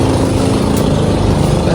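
Small boat engines drone steadily at close range, a loud continuous buzzing hum of motorboats passing nearby.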